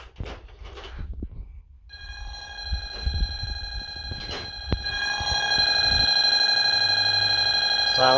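A Bosch GV4 alarm system sounds after being tripped in instant mode, first a few sharp clicks and beeps, then a continuous loud electronic ringing tone that builds and holds steady until the end.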